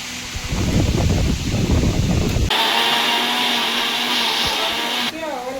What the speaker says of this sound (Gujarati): હા ગ્રેવી કરી નાખું બરોબર મિક્સરમાં.